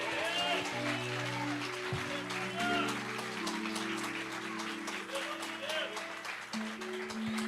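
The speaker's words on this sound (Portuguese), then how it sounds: "A igreja aplaude ao Senhor." A church congregation applauds the Lord during a worship service, with continuous clapping beneath sustained organ or keyboard chords and crowd voices filling the room.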